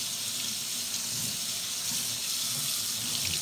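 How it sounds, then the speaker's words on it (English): Water runs steadily from a tap, rinsing detergent off a vinyl LP record. It makes a continuous close hiss and splash with no breaks and no voices. "It's a matter of just getting that water to go and clean off all the detergent."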